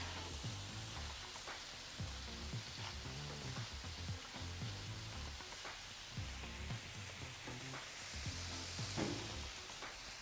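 Butter sizzles and crackles steadily on a hot Blackstone griddle, a continuous close frying hiss with small pops throughout and no talking.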